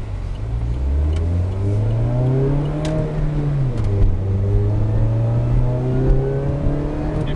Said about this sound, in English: Hear the whine of the supercharger, it sounds really nice.